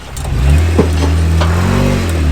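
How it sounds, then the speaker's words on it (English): A Jeep engine revs up under throttle and holds a steady, loud drone with rising harmonics, close by at an off-road Jeep jamboree. "Now give it gas"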